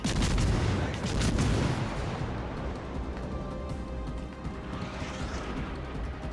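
Heavy naval gunfire from a T4 Montecuccoli cruiser battle in World of Warships: Legends, loud booming salvos in the first two seconds fading into a rumbling, sustained battle din.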